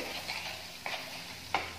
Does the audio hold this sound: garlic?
yes